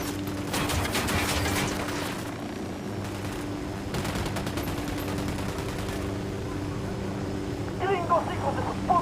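Bursts of automatic gunfire in the video game Ghost Recon Operation Kingslayer, rattling volleys in the opening seconds and again midway, mixed with an engine drone and voices talking.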